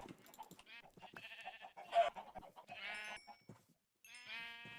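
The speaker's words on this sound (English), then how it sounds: "it glitched and it threw in a bunch of sheep" Several sheep bleat in Minecraft with the GregTech mod, in short wavering calls spread across the stretch, some close and some farther off, with game ambience and no talking.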